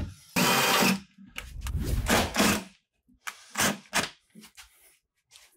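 A power drill drives screws through cement board into wooden shower backing, several short loud bursts of whirring separated by pauses, close and without talk.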